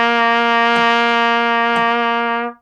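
A single low C held steadily on trumpet for about two and a half seconds, rich and close with slight pulses, part of a beginner trumpet method exercise, played alone without talk.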